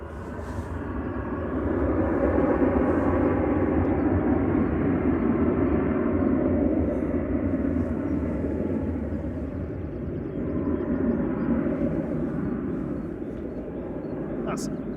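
Boeing 777 airliner at Manchester Airport, a broad, steady jet roar that holds loud for the whole stretch with a slight swell midway, heard from a distance.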